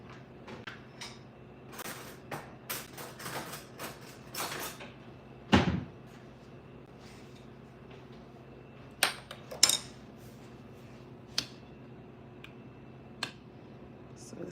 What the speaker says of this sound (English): Let me get a spoon really quick.